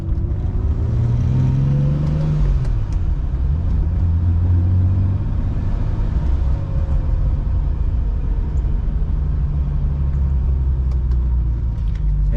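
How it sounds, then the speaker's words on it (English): A turbocharged BMW 733i E23 sedan idles steadily after warming up, a loud, continuous low rumble with a faintly wavering pitch and no voices over it. "Car's idling really well."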